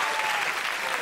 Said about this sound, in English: Every time someone gets a round of applause